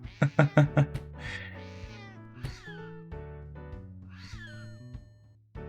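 Cartoonish cat meows from the video game Drop It come in quick bursts: four rapid short meows followed by several longer drawn-out yowls, layered over a bouncy game music loop.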